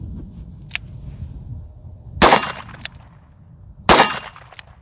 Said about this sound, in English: Let's go up, take some shots.